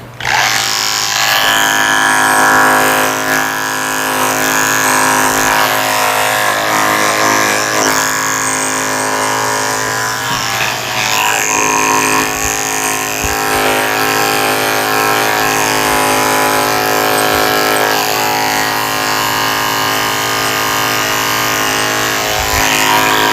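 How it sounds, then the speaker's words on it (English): Electric clippers shaving the head and neck of a Lhasa Apso during a short haircut, a steady loud motor buzz running continuously close by with slight shifts in pitch as the blade moves through the coat. "I'm going to finish shaving her head and neck."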